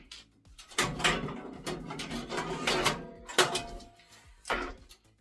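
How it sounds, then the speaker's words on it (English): Hard drives being fitted into the drive cage of a home server case make a series of hollow plastic-and-metal clunks and sliding scrapes, several distinct knocks in irregular rhythm, close and moderately quiet. "I'm going to go ahead and install these hard drives now"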